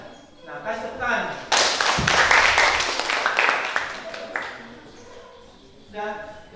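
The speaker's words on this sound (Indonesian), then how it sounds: "Nah, kasih tepuk tangan." A classroom group bursts into clapping during a teacher-training practice lesson, a loud flurry of hand claps lasting a few seconds, with a voice speaking before and after.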